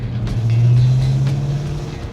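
A 1970 Pontiac GTO Ram Air muscle car pulls hard in second gear on an open road, its loud, deep V8 rumble rising and holding steady as it accelerates for about two seconds, with no voices over it.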